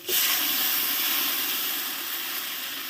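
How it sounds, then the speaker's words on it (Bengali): Hot water poured into a pan of sizzling spiced potatoes makes a sudden loud burst of steam and hissing that holds steady and fades slightly over a few seconds, close by with no voices. "এইবার এখানে আমি একটু গরম জল অ্যাড করবো"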